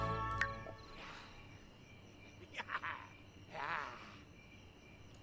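Frogs croak in The Sims while the player catches them, several soft rasping calls over a steady ambient bed of insect-like chirring.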